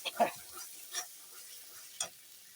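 Mashed potato and pointed gourd with green chili frying in a pan: three or four short, distinct spatula scrapes over a quiet background sizzle.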